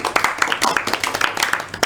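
Students clap in a classroom, a small group producing sparse, uneven individual claps close by, with distinct sharp hits over a couple of seconds.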